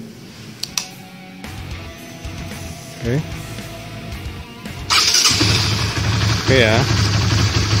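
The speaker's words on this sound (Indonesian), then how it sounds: "Sekarang kita akan menekan tombol starter ya teman-teman. Jadi dia akan auto starter." A Honda CB150R motorcycle with a keyless starter cranks and fires up, then settles into a close, steady idle, with someone talking briefly before it starts.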